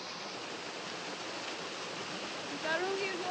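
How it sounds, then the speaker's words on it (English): A waterfall in the Kihara hills gives a steady, broad rushing roar that holds even throughout, with a faint bird-like chirp near the end. "Tukarungi's waterfall."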